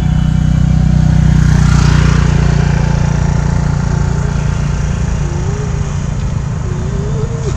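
A motorbike engine idles loudly and close with a steady droning rumble as it is parked at a Kolkata cafe, with faint background noise and no talk.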